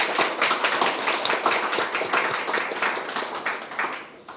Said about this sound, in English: A very loud applause to all of them.